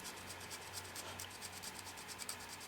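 Sandpaper rubbed directly on a painted model tank mount, a faint, steady raspy scratching in quick strokes, close and quiet, with no talking.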